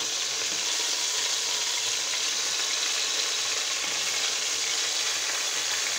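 Beef steaks for rolled beef searing in olive oil in a pressure cooker, a loud continuous sizzle and crackle of frying with no talk.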